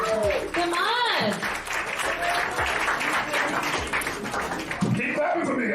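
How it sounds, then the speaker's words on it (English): Audience applause and clapping for a stand-up comedian at a comedy show, a dense sustained roar of hands with scattered whoops and laughter, a voice shouting over it near the start and again near the end. "Keep clapping for me"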